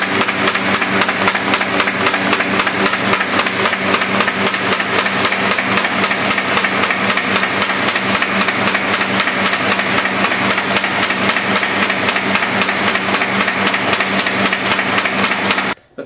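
A Baum 714XLT air-feed paper folder running with its rollers and feed pump on, a steady loud mechanical drone with a fast regular beat that holds for about sixteen seconds and then cuts off at the very end.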